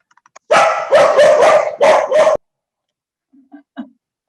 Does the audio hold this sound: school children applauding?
no